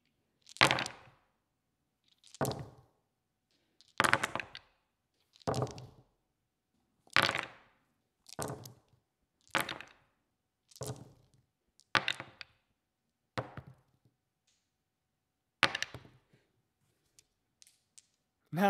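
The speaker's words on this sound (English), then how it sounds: "They satisfyingly dampen the noise of dice rolls." Dice roll into a collapsible folding tray and then into a wooden tray, one toss after another, about a dozen short clattering bursts separated by silence. Each roll is close and quiet, and no one speaks.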